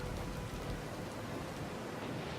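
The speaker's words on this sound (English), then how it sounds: "The crew lash barrels in the rain, catching drinkable rain water." Rain falls in a fantasy role-playing game, with the crew on a ship lashing barrels on deck, a dense steady hiss of downpour with a low rumbling undertone, continuous and close.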